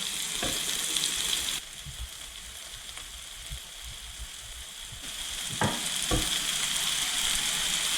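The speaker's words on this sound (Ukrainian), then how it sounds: "Смажу на великому вогні до румяної скоринки." Loud, steady sizzling of mushrooms frying over high heat, with a few sharp clicks and scrapes of stirring breaking through the hiss.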